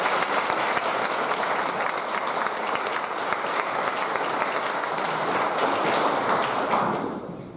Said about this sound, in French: Alors j'aimerais qu'on applaudisse Mme Paulette